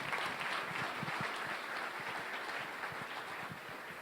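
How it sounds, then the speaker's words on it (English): Quiet applause from an audience at a 1 Million Cups Wichita gathering, a soft patter of clapping that holds steady and sounds somewhat distant. "If we can give them a round of applause."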